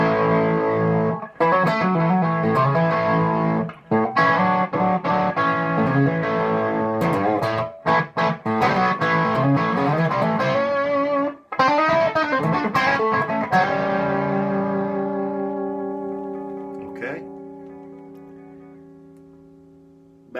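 A Vox Lil' Night Train valve guitar amp with its fat switch engaged, playing crunchy, mildly distorted electric guitar chords and riffs for about twenty seconds, ending on a long sustained ringing chord that slowly decays.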